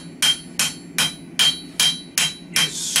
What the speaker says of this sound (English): What I'm doing now is I'm forging in the bevels